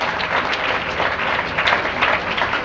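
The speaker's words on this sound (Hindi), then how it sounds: "एक बार अपने लिए जोरदार ताली आप सब बजा दें।" A live audience at a talk on the child welfare committee claps for itself, applause filling the whole stretch as a dense, steady wash of many hands, with no voices standing out.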